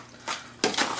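Two short clinks of a utensil against a bowl while half and half is stirred into baked spaghetti squash, quiet and close with a brief pause between them, no voices.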